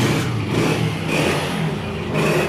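A Honda 125 self-start motorcycle engine runs steadily close by, a loud continuous throbbing idle with slight swells in revs and no talk over it.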